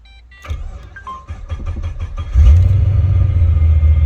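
An LS1 V8 car engine cranks with a quick series of starter pulses, then catches and settles into a loud, steady idle rumble close by; no one talks.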